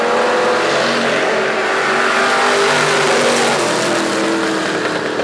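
Super stock race cars roar around the track at a memorial race, a loud, continuous engine drone with revving shifts as the pack passes, no voices heard.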